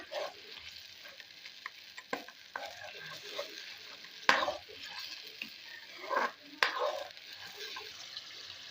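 Beef liver cooks in a pan with a faint, steady sizzle and fry, broken by several sharp stirring scrapes and clinks at irregular intervals.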